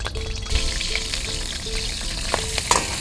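Garlic and green chillies fry in hot oil in a pan, giving a loud, dense, continuous sizzle close by, with faint stirring clicks and a steady low hum in the background.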